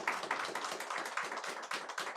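A congregation in a Korean church service claps for a visitor, a fairly quiet, brief burst of scattered hand claps throughout without any voices.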